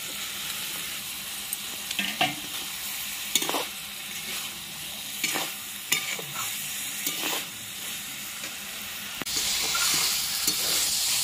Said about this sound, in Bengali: কেটে রাখা টমেটো সব দিয়ে ভালো করে কষিয়ে নিচ্ছি